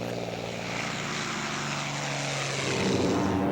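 Droning propeller engine of a P-47 Thunderbolt, a massive World War II fighter plane, holding a steady loud roar that swells slightly toward the end, with no voices.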